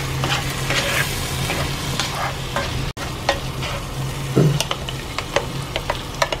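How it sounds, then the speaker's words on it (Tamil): Mint leaves and coriander stirred into pav bhaji frying in a pan, a continuous close sizzle with repeated quick spatula scrapes and taps against the metal. "புதினா இலைகள், கொத்தமல்லி, இதோட சேர்த்து நல்லா கலந்துப்போம்"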